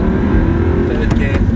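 An Audi R8 accelerates while shifting up to third gear, a loud, close, steady engine roar heard from inside the car as a person talks.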